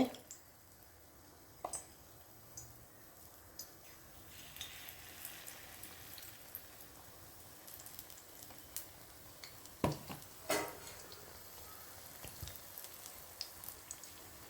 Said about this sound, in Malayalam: എണ്ണയിലേക്ക് നമുക്ക് ഓരോ തവിയായിട്ട് ഒഴിച്ചു കൊടുക്കാം